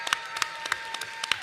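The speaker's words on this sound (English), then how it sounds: "I'd like for y'all to give Reverend Sharpton a round of applause for it." Rally crowd at a National Action Network event clapping for a reverend, with a handful of distinct, fairly quick claps over a faint steady tone, thin and sparse rather than a full ovation.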